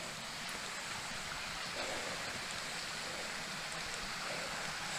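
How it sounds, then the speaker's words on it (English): Blackburn Creek flows past Rock Hole Camp on the Butterfield Hiking Trail in a steady, broad rush of water that continues without pause, with no voices. "this is Blackburn Creek"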